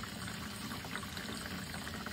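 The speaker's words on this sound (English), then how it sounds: "It was flowing kind of quick there, trying to overflow out of the pan." Old, thin transmission fluid from a 2004 Toyota Camry draining quickly into a pan, a continuous faint pouring splash with no pauses.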